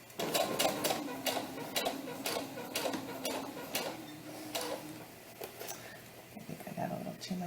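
A sewing machine runs in short rhythmic bursts while stitching bias tape onto a doll tunic, its needle ticking steadily at close range with pauses and faint handling noise between runs.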